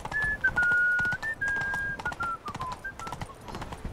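Birds whistle in The Witcher 3 near the Pleghm bridge, with long sliding whistled notes repeating over a busy clatter of game ambience, fairly close and clear throughout.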